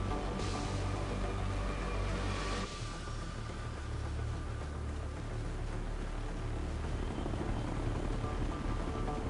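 A continuous helicopter rumble from Ghost Recon: Future Soldier fills the scene, a thick, even rotor wash holding steady throughout with no voices.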